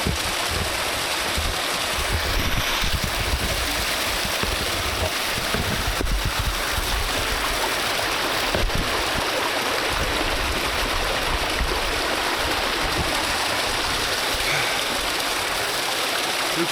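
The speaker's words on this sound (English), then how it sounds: "Nice stream, this must be cool." A mountain stream on England's coast to coast path between Borrowdale and Patterdale rushes steadily and close by, a dense, even wash of flowing water lasting throughout with no talk.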